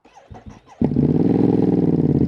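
A Ducati Streetfighter V2S motorcycle with a Termignoni exhaust cranks and fires up, settling into a loud, steady, throbbing idle close by after a few brief clicks and clunks.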